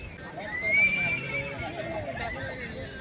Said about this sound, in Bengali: হ্যাঁ, ঘোড়ার আওয়াজটা কিন্তু অনেক সুন্দর,